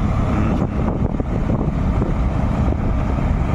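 A Ford 3600 tractor, a 47-horsepower diesel, runs along a road with a steady, loud low engine drone and rumble, mixed with wind buffeting the microphone and no breaks.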